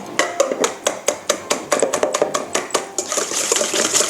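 Butter and sugar being beaten together for fruit cake batter, a spoon or whisk knocking steadily against a bowl in rapid rhythmic clinks, close and clear, blurring into continuous scraping toward the end.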